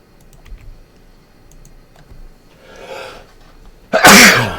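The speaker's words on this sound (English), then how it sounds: "definitely going to be another sneeze." A sudden loud sneeze bursts out near the end, after a quieter lead-in of faint breathy buildup and scattered keyboard clicks in the background.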